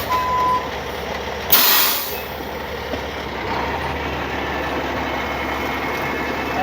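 Garbage truck reversing with its engine rumbling close by, a hiss of air brakes early on and a faint tone of backup beeps under the steady idling noise.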